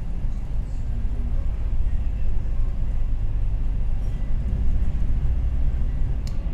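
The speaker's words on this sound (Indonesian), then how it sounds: "Sekarang ini perjalanan kereta api Argo Dwi Pangga melintas langsung di stasiun Cirebon Prujakan" A steady low rumble from aboard the Argo Dwipangga executive train as it runs straight through Cirebon Prujakan station, continuous and even with no clear horn or voices.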